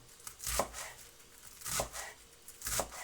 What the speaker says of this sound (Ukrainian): Тепер нарізаю не дрібно і не